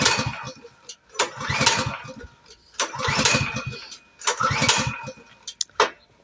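Several attempts to start a petrol engine, each a cranking, sputtering burst of a few seconds separated by short pauses, fairly close, with people talking quietly in between.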